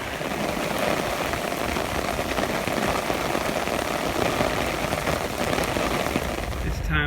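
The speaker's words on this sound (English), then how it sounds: "And it is raining something fierce, so I am carrying my umbrella now." Heavy rain pouring in Shanghai, a dense steady hiss of drops hitting surfaces close by, loud and unbroken throughout.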